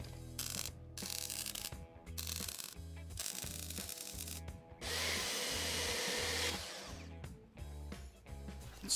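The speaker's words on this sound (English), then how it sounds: "Saw's freaking awesome." A power saw cuts wood for a steampunk coffee bar build, with rhythmic motor bursts and a sustained loud cutting stretch in the middle, close and continuous with no talk.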